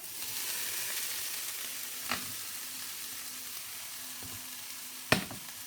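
Mince frying in a pan with softened vegetables over medium heat gives a steady close hiss and sizzle, broken by a couple of sharp utensil clinks, with no voices.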